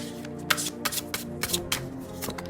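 Tarot cards shuffled and drawn by hand, a run of crisp riffling bursts and soft slaps repeating in an uneven rhythm, close and fairly quiet, with a faint steady hum underneath and no talking.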